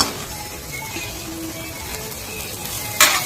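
Egg white fries in a pan of spicy muttai thokku with a soft, steady sizzle, close by, while a utensil stirs it and ends with a sharp scrape against the pan.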